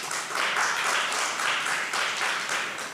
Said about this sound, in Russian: я надеюсь, вы хлопаете Достоевскому